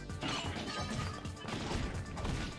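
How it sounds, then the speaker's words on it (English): A sword shattering under a heavy blow, a sound effect in the Fate/stay night visual novel, heard as a loud, sustained crashing smash of metal breaking up, close and alone. "My axe sword shatters beneath his second attack"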